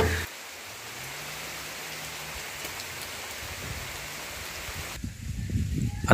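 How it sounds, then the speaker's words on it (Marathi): Steady rain falls on a village organic vegetable farm, a dense even hiss that swells into louder, closer splashing and drumming near the end. "काम करताना पाऊस आलाय"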